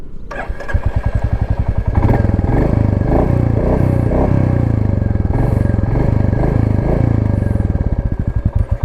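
A Royal Enfield Classic 350 motorcycle engine idles and revs with a steady, deep thumping pulse, loud and close, rising slightly then settling back.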